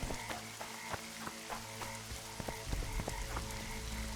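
Rain summoned by sorcerers falls in The Witcher 2, a continuous patter with scattered sharp drop ticks and croaking frogs, fairly close and steady, with no talk.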